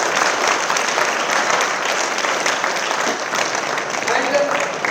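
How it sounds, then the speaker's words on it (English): Steady, loud applause from a university ceremony audience, dense and continuous clapping filling the hall throughout without letting up. "A big round of applause"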